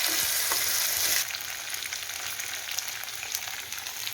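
Shallots and garlic sauté in hot oil for Chettinad vathakulambu, a loud steady sizzle that drops to a softer, even frying hiss partway through, with faint scraping of stirring.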